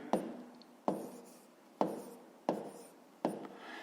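A pen writing figures on paper during a fifth-grade maths division exercise, five quiet separate strokes at a slow, even pace with nothing else heard.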